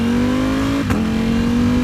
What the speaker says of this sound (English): Let's hop on the bikes and go for a ride.